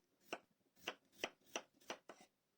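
A knife chops through potatoes onto a board in six crisp, evenly spaced strikes, close and clear with no talking.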